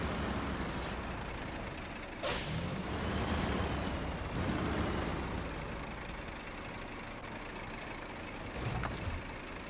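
Heavy truck driving in SnowRunner, with a steady engine drone and rumbling terrain noise throughout, a few sharp hiss-like bursts from air brakes, and no talking.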